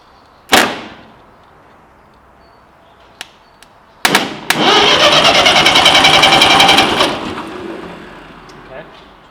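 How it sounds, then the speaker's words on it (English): A brief mechanical burst, then the starter motor of a Ferguson TE-20 tractor cranks the engine with a rapid rhythmic chatter for about three seconds before stopping; loud and close. "what we have there is a working starter motor"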